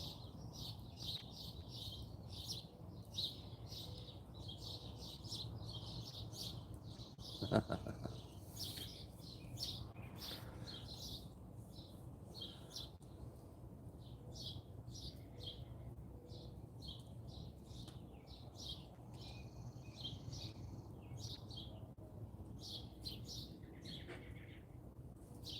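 Birds sing outdoors in the early morning by a firepit, repeated bright chirps and trills at moderate distance over a soft steady background hum, no talking.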